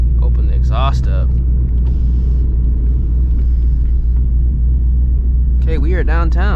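A catless S650 Mustang GT exhaust rumbles loud and deep through the city at night, with a heavy low drone throughout. People talk briefly over it at the start and end.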